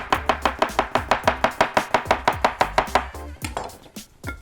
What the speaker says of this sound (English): So I'm just gonna cut this potato up really quick